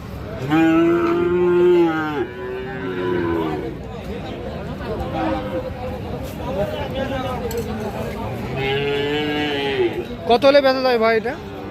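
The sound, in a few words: Sahiwal bull calf at cattle market mooing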